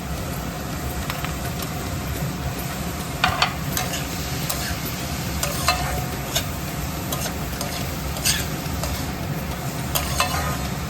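Onions frying on medium gas heat in a pan for vegetarian bean enchiladas, giving a steady close sizzle with scattered light clicks and scrapes of stirring throughout.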